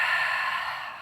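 A long, audible exhale through the mouth during a Pilates mat exercise, a single breathy whoosh that is close and clear and trails off gently.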